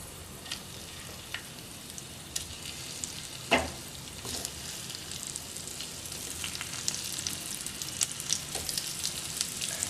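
Ridge gourd frying in a pan with turmeric powder while being stirred: a steady, close sizzle with scattered scraping clicks from the spoon and one sharper knock near the middle, no talking.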